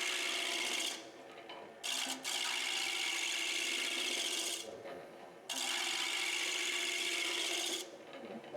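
A wood lathe turning a lamp at around 1000 RPM, giving a steady, close rasping and rubbing of a tool on spinning wood in long passes, broken by a few short pauses.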